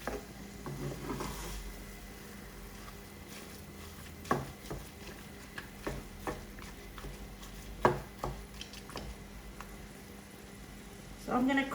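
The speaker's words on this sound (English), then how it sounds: "Give it a good mix and a press and a mix again." Spiced mince for meat samosas mixed and pressed with a wooden spoon in a pan, giving irregular soft knocks and scrapes over a low sizzle, with a few sharper taps near the end.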